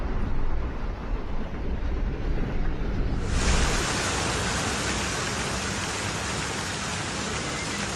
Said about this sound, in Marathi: पुण्याच्या वाघोली परिसरात मुसळधार पाऊस झाला आहे